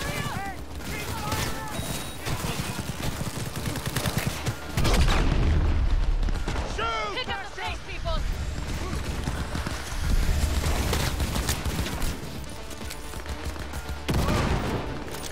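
Gunfire in the video game Cyberpunk 2077, with bursts of shots and booming impacts repeating through a busy, loud game soundtrack while a person talks over it.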